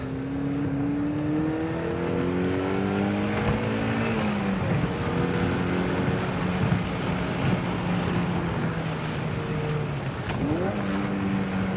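A Mazda NC Miata engine revs steadily at a race track, with pitch rising through the gears and dropping at each shift, loud and constant from inside the car.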